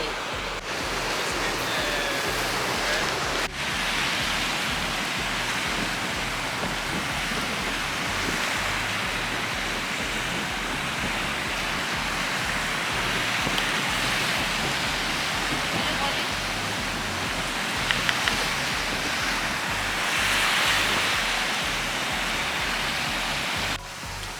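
Ocean waves on the south shore of Kauai, heard from a park, as a steady broadband roar of surf that stays loud and continuous throughout, with no distinct breaks between swells.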